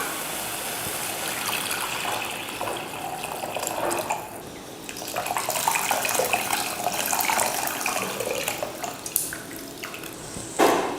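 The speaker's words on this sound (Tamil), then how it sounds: "வதக்கிட்டு அடுத்து புளி தண்ணி சேர்த்துடலாம்." Tamarind water pours steadily into rasam in a pan after turmeric has been sautéed, a continuous close splashing gush that swells midway and ends with a brief louder splash, with no talking.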